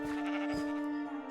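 Sheep in the Minecraft video game give a short, clear synthetic bleat, a single wavering call standing alone.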